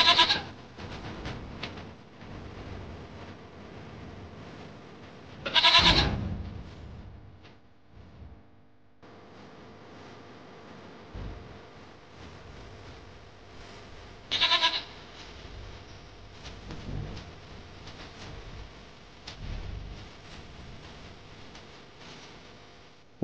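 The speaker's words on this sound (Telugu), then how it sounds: "పొట్టేళ్లు భలే బలంగా ఉన్నాయే." Rams tied to a tree ahead of a ram-fighting contest bleat in two loud, distinct calls over a quiet outdoor background.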